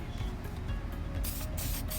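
An aerosol spray paint can sprays black paint for shading on a planet painting, a steady close hiss running throughout with brighter bursts toward the end.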